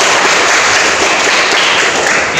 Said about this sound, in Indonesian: Tepuk tangan untuk Dini.